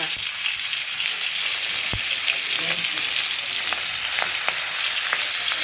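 Salted fish pieces sizzle steadily in hot oil as they fry for a mashed-fish bhorta, a dense continuous crackle with a few sharper pops and clinks of a utensil near the pan.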